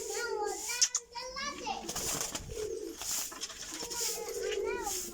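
Pigeons coo softly from a flock kept for sale as fancy flying birds, heard close by beneath steady adult and children's talking that runs through the whole stretch.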